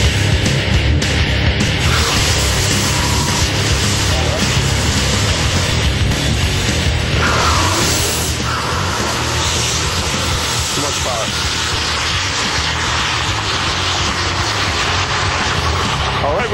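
AGNS (All Go No Show) electric motorcycle doing a burnout and record launch at a drag strip, a loud sustained broadband roar and whine running steadily throughout, with voices faintly mixed in.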